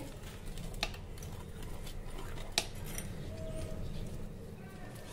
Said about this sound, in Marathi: हे बघा, हा पराठा मी तुम्हाला कापून दाखवते